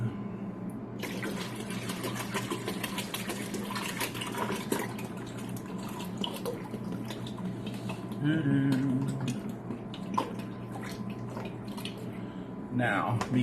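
A gallon of juice glugs and splashes as it is poured into a home brew of hard apple cider, a steady close liquid rush that swells midway. Someone talks over the pour.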